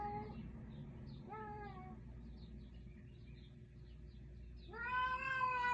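A female cat in heat yowls in long, drawn-out wails, three separate cries with a pause between, faint and set back in a quiet room.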